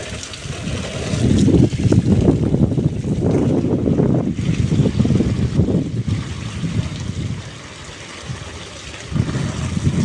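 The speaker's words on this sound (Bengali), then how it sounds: "এই যে দেখুন কি বাতাস" Strong gusting wind on a rooftop garden buffets the microphone in loud, rumbling waves, easing briefly before surging again.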